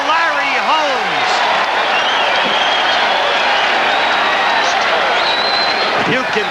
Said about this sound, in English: The crowd on its feet cheering for Larry Holmes.